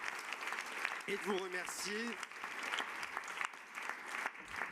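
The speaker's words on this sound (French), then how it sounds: "je vous propose d'applaudir à nouveau cette table ronde" Audience applause at the close of a round-table panel on rights and access to care during a pandemic, steady clapping throughout with a voice speaking over it.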